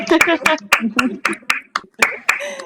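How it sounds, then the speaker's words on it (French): A small group of women claps for themselves at close range, with distinct sharp claps at an irregular pace while voices talk and cheer over them. "Je pense qu'on peut toutes s'applaudir"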